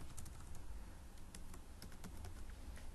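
Fingers tap quickly on a computer keyboard in a steady, uneven patter of close keystrokes, fairly quiet, with no speech.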